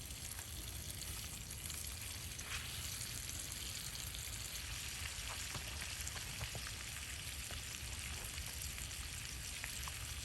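Onions frying and caramelizing in a pan over a campfire at a winter bushcraft camp by Eagle Lake, North Carolina, a steady close crackling sizzle with scattered pops, continuous and even throughout without talk.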